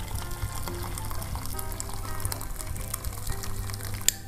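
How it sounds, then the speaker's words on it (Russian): Hot water poured into a saucepan, giving a continuous close liquid stream that fills the pan over several seconds, then ends in a small sharp knock. "Наливаем воду в ковш, в моем случае."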